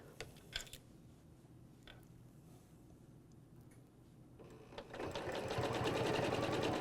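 Sewing machine stitching a quilt row guided by a back-to-back ruler template, a steady motor whir with a faint tick near the start that swells louder in the last two seconds as the stitching speeds up.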